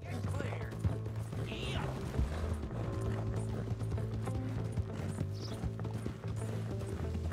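Horse hooves clip-clop steadily in Red Dead Redemption 2, a continuous close trotting rhythm mixed with creaking, rattling tack and game ambience, no clear talk over it.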